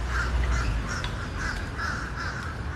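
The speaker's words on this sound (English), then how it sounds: "The birds are kind of squawking today." Crows caw repeatedly on a morning walk in Savannah, Georgia, with loud, evenly spaced harsh calls from a moderate distance over faint outdoor ambience.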